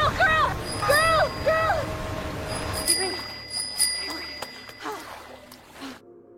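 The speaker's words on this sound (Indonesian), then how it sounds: "ia terus membunyikan bel itu terus-menerus sebagai sinyal" A bell rung over and over as a signal in a film scene, bright repeated dings that start loud and clustered, then continue more sparsely with a lingering ringing tone, under narration.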